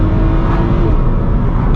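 BMW E90 335i engine running under steady load, a dense continuous drone with a faint higher whine, loud and close throughout with no clear gear-change break before a short click near the end.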